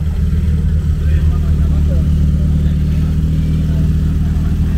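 A Japanese car with an aftermarket exhaust at Japfest 2023 burbles close by in a steady, throbbing low idle, a continuous deep pulsing note with little change in pitch.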